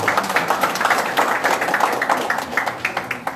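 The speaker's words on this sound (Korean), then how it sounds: "우리 원창훈 시장으로 박수 좀 한번 드리겠습니다." Scattered clapping from a meeting audience in honour of the mayor of Wonju, sparse, uneven hand claps at moderate volume that fade unevenly and carry on for a few seconds without talk.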